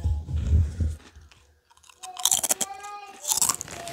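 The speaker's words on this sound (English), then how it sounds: "Got that crunchy sound." Close-up chewing of Lay's Cuban flavored potato chips, with bursts of crisp crunching after a brief quiet pause, loud and near the microphone.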